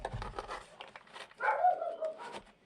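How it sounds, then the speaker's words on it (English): A dog barks faintly in the background of an indoor room, a few scattered muffled yaps among light handling sounds, somewhat distant. "that's my dog in the background"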